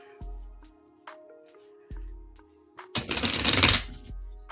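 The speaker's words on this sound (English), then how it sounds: "Ooh, nice shuffle." A deck of tarot cards is shuffled close up: sharp taps and thumps as the deck is handled, then a dense, loud riffle lasting about a second before a final tap.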